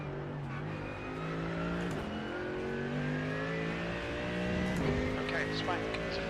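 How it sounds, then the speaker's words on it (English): A race car engine in the iRacing sim, GT3 or IMSA style, drones steadily and shifts pitch as a faster car closes in, with a driver talking over it. "there's a faster car approaching."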